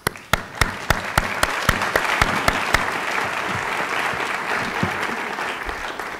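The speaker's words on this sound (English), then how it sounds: "a small hand of applause" Applause from the audience at a medical school white coat ceremony, opening with a dozen sharp separate claps that quickly blend into a steady wash of clapping, then gradually thins out.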